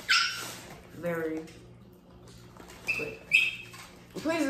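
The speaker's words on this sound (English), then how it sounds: "Please excuse our dog." A pet dog fusses with whimpers and yelps while people eat, short squeaky bursts between spoken voices, close and fairly loud.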